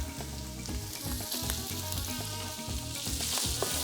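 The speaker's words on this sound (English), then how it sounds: "I'm gonna use my knife to put my onions in our skillet" Onions hitting a hot skillet of cooked chorizo with serrano peppers give off a loud, steady sizzle, with occasional scraping and stirring clatter, and no voices.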